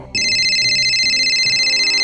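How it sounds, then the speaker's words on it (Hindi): A phone ringtone starts abruptly and holds a bright, steady electronic tone, loud and close, sounding alone for about two seconds. "फिर रिया को उसकी सहेली का फोन आया"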